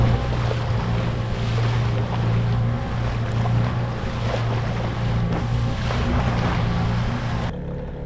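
An engine-driven fishing boat heading out to sea off the Mumbai coast for Chinese pomfret fishing drones steadily and close. Wind buffets the microphone and waves wash against the hull throughout.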